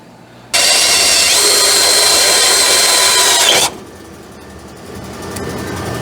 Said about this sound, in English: let me drill a different hole right there real quick like